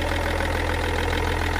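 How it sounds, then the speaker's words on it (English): A BMW M57 diesel engine idles with a failed crank pulley vibration damper, giving a steady, loud, continuous mechanical drone with a faint rhythmic knock running through it, close up and without speech. "So the engine's turning, but nothing else is."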